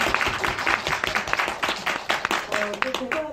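Audience applause at a film screening Q&A in a cinema, a dense patter of many hands clapping at moderate distance, with a voice speaking over it near the end.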